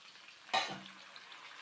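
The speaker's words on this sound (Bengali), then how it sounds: "এতে আমি এবার টমেটোগুলো দিয়ে দিই" Tomatoes drop into a hot pan with a sudden burst of sizzling, which then settles into a quiet, steady frying hiss.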